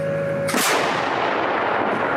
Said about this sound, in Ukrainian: Коли велетенська гармата робить постріл, поруч з нею відчуваєш, як вібрує земля під ногами.